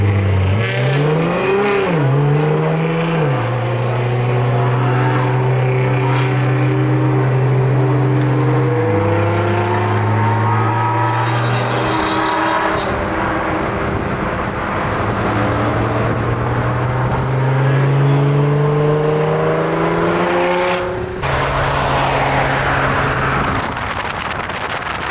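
A loud performance car revs hard and accelerates at a car show, its engine pitch climbing and falling through long surging pulls with sharp exhaust crackles, the roar close and continuous, then fading as it pulls away.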